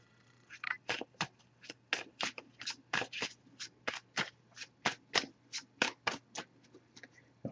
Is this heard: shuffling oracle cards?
yes